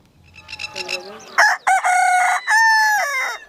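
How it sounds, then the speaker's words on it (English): Several chickens cluck and a rooster crows loudly nearby at a chicken rescue centre, the calls overlapping and rising in a drawn-out cock-a-doodle-doo. "Look at all those chickens"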